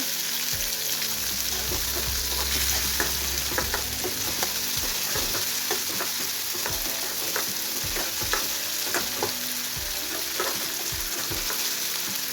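Chopped tomato and curry leaves are added to browned onions in a hot pan for a masoor dal and onion bhaji, and they sizzle and crackle steadily, with scattered clicks and scrapes of stirring.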